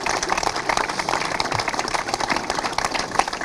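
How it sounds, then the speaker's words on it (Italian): Sustained, dense applause from an audience at a book presentation about basketball fills the room, with many hands clapping at an even, busy rhythm and no voices heard. "penso che vada fatto un applauso a Alberto Cardella"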